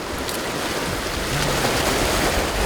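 Strong waves break and wash against the rocky cliff shore of Cheongdeungdo island at low tide, a steady, loud roar of surf that swells slightly toward the end, with wind buffeting the microphone.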